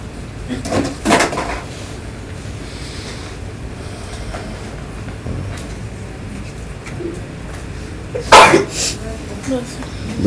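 A single sharp sneeze bursts out in a lecture hall over a low murmur of room noise, followed a few seconds later by a second brief, louder burst.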